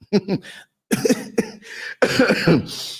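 Several bursts of coughing close up, spread across a few seconds with brief pauses between them.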